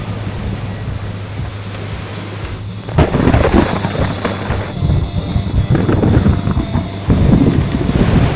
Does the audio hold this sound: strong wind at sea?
yes